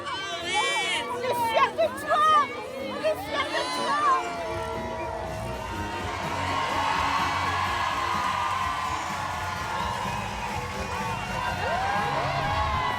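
A lively crowd murmurs and chatters at an outdoor public meet-and-greet with a Miss France, with scattered excited voices and squeals at first, settling into a steady babble of many people.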